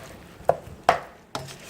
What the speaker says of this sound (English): I'll add the seasoned wings to the minced garlic with a little bit of butter and the hot sauce mix. Okay, and then I'll just kind of stir that around.